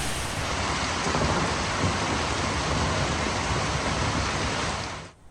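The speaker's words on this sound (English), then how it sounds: "It even holds up to a strong southern squall." A strong southern squall brings heavy rain that roars as a dense, continuous wash, with a low thunder rumble underneath. The storm noise stays loud and steady, then cuts off abruptly near the end.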